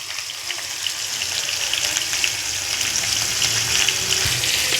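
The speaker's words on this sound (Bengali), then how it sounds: "পটল আর আলুগুলো হালকা করে ভেজে নেব" Pointed gourd and potato pieces, dusted with turmeric and salt, fry lightly in hot oil in a pan with a continuous loud sizzle and hiss throughout and no talking.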